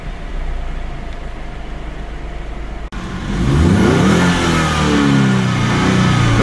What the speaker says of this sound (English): Ford claims to have engineered a lot of sound effects with this EcoBoost engine